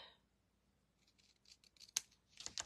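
Scissors snipping off a piece of card during an artist trading card craft, a few quiet close-up crisp cuts building toward the end after near silence.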